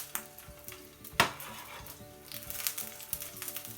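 Brood X cicadas sizzle in a hot frying pan for taco filling, a steady crackling fry broken by a sharp utensil knock against the pan and light scraping stirs, close and without talk.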